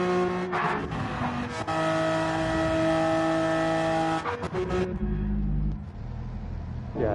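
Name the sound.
opponent's race car engine in Gran Turismo 7 video game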